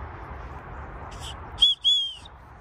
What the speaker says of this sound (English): And then your whistle comes out,